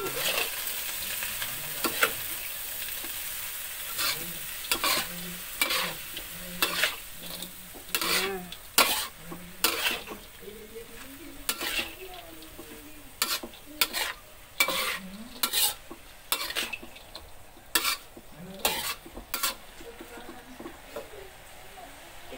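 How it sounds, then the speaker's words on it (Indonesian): Dried shrimp fry in a pan for capjay while being stirred, with a soft steady sizzle under a run of sharp, rhythmic spatula scrapes and clacks against the metal. A voice talks in between the strokes. "terus udang keringnya aduk-aduk dulu"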